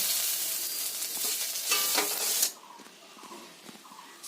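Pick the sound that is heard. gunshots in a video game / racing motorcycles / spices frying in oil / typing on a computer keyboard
spices frying in oil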